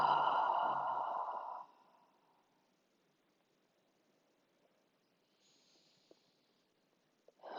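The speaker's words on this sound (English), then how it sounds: "Couple of big breaths all the way out." Two big breaths exhaled fully out during a restorative legs-up yoga session, a loud, breathy sigh-like rush at the start, then near silence with a faint soft breath near the end.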